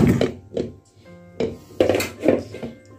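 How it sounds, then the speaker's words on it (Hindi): About half a kilo of whole potatoes drops into a metal pressure cooker for boiling in a home kitchen, making several dull, close thuds and knocks at an irregular pace. "कुकर में आलू डालें"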